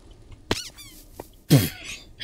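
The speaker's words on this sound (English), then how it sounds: "It just made a squeak sound when I died." A short, bright squeak sounds as the player dies in a gravity game mode, cartoonish and upward-bending, followed by a cough-like burst; close and clear with no talk over it.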